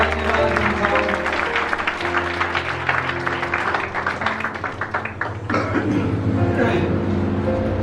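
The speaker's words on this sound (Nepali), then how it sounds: "जोरदार परमेश्वरलाई फेरि एकपल्ट ताली बजाएर धन्यवाद दिन्छौँ" A church congregation clapping in thanks to God, a loud, sustained burst of applause with crowd noise, voices rising through it.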